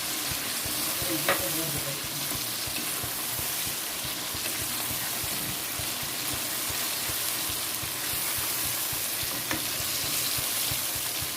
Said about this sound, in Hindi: अच्छे तरीके से आपने इसको भूनना है, ये मसाला जो है कम्प्लीटली इसके अंदर रच बस जाए।